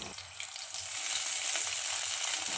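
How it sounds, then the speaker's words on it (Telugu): Green chillies and coriander leaves frying in about two spoons of oil in a pan for sesame coconut coriander chutney, a steady close sizzle that swells after a brief start and holds loud throughout. "కొత్తిమీర వేసి వేయించుకోవాలి."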